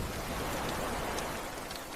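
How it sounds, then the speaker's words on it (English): Rain falls heavily and continuously against large windows, a dense, steady wash of patter filling the space with no pauses or voices. "Rain slid endlessly across the giant windows beyond"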